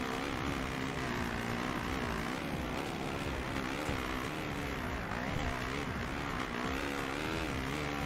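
Motocross bike engine in the MXGP2 racing game, a steady loud drone revving up and down through the whole stretch, dense and continuous with no voices.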